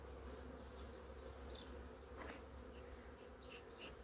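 Honeybees hum steadily at an opened hive in spring, a dense continuous buzz close by with individual bees flitting past, no voices.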